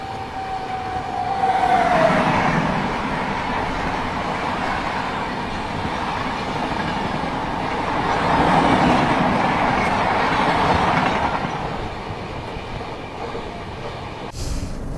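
Inside a moving Rajdhani Express coach, a steady rolling rumble and rail noise swell and ease, with a brief squeal near the start and a faint click at the end, all without talk.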